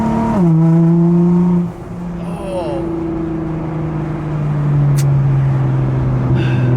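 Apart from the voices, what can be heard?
straight-piped car turbo whistle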